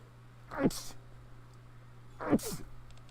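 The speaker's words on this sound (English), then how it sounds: "I'm gonna sneeze" Two sneezes about two seconds apart, each a sharp inhaled buildup ending in a loud bursting release, close to the listener.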